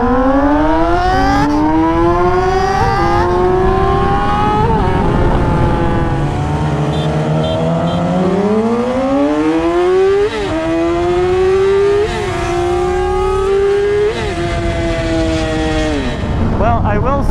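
Yamaha YZF R6 sport bikes, old and new generations, accelerating hard in a straight-line run, loud high-revving engine climbing through several gear shifts with brief dips between, continuous and close throughout.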